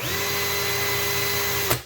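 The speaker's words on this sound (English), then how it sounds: "you've also got speed 2, which is faster but gives the drill slightly less torque" A Bosch drill runs steadily on its faster speed 2 setting with a constant, close motor whine. The tone stays even for under two seconds and then stops with a brief click.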